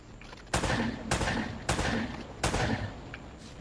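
Gunshots in the Uncharted video game, four loud booming shots spaced roughly half a second to a second apart, each with a short echoing decay over a low background hum.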